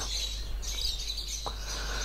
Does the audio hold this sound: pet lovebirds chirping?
yes